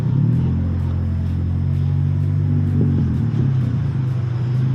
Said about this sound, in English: I'm driving my absolutely filthy 2013 Volkswagen Golf R